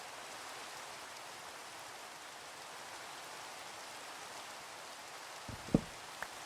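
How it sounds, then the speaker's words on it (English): Steady, dense rain hisses over a Minecraft survival world, an even wash of falling drops that holds at a constant level, broken near the end by a couple of short, soft thumps. "And of course it starts raining."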